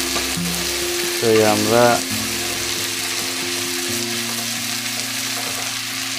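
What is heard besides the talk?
chicken and potato being sautéed in a pan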